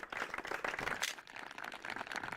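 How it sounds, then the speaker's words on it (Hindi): A studio audience at an Indian farmers' question-and-answer TV show applauds, a brief, fairly soft burst of massed clapping that continues evenly and alone. "जोरदार तालियां एक बार फिर से।"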